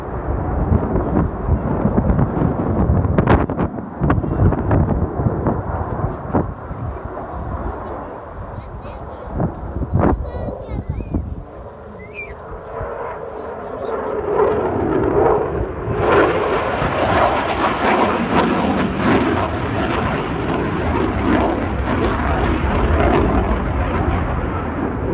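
Eurofighter Typhoon jet in an air display at a Battle of Britain Memorial Flight event, a loud broad roar building and rumbling throughout, with a commentator talking over it.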